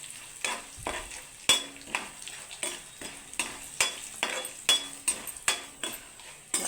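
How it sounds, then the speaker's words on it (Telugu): Turmeric being stirred into a frying mixture in a pan, a spoon scraping in a steady rhythm of strokes with soft clinks over a quiet sizzle. "దీన్ని కలుపుకుందాం చక్కగా"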